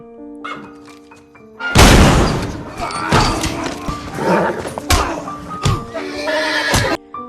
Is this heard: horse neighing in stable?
yes